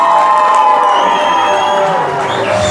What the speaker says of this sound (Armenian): Այ հիմա ուզում ենք, Փեսայի կողմի ծափերը լսենք։